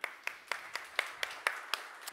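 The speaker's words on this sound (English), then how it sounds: "big applause." Audience clapping at a breakfast meeting, heard as a steady series of about nine evenly spaced, fairly faint claps, close to a slow rhythmic beat rather than a full crowd roar.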